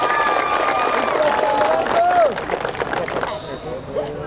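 A crowd at a community gathering in Sidrap, Indonesia claps and cheers for the deputy regent, a loud, dense wash of clapping with whistle-like tones that thins sharply after about three seconds.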